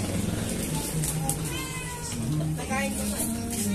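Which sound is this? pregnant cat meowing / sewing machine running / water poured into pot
pregnant cat meowing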